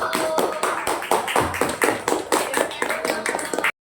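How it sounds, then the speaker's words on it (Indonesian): Classroom applause from a group of students, loose rhythmic clapping close by in irregular bursts, with some voices mixed in, stopping abruptly. "tepuk tangan untuk Faris."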